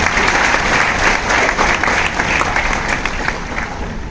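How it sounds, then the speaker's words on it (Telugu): A gathering at a pastor's birthday celebration bursts into loud, sustained applause, a dense and continuous wash of many hands clapping close by, with no clear talk over it. "గట్టిగా చప్పట్లు కొడదాం"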